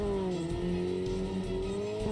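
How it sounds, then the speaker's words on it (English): A powerful car engine revs loudly and steadily in the Steins;Gate 0 video game, with a sustained rising and falling engine tone that fills the whole moment, heard alone. "The sound of a powerful engine shook the underground air."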